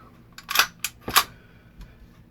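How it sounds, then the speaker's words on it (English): A Smith & Wesson 6904 pistol magazine released and dropped out, a few sharp close metallic clicks and clacks in quick succession, followed by a faint knock. "Now, to take the magazine apart, we'll go ahead and drop the mag."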